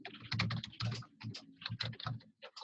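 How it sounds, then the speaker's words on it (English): Someone typing on a computer keyboard, close and quiet, a brisk run of key clicks in short uneven bursts with brief pauses between them. "Are you typing that out?"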